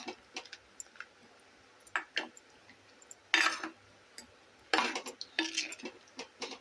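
A spoon stirs washed fish pieces into a pot of Tamil fish curry, giving faint, scattered scrapes and light clinks against the pot in a quiet kitchen.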